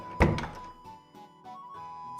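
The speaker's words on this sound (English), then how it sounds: "I shut the door behind me." A door shuts with one sharp, close thunk, then a few faint knocks and a low hum linger in a quiet room.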